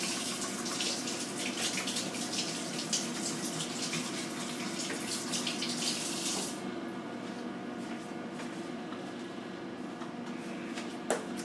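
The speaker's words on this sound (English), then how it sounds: "Now I'm going to rinse my hand." Running tap water splashes steadily over hands being rinsed in a kitchen while bread is made, a close hissing spray that stops partway through, leaving a quieter room hum.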